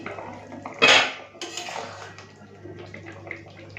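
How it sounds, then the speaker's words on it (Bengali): Lid lifted off a cooking pot of fish curry, giving one sharp metallic clank, then a soft rattle and faint bubbling afterward. "এখন আমি ঢাকাটা খুলে নিচ্ছি"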